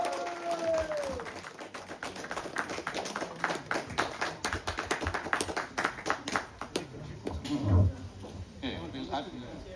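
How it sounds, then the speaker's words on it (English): A crowd at a trout fishing event prize ceremony claps and applauds steadily for several seconds, with voices talking underneath and a louder burst near the end. "Round of applause."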